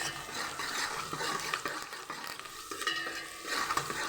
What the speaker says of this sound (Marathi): 1 मिनटं आपण कांदा परतून घेऊ आणि मऊ शिजवून घेऊ.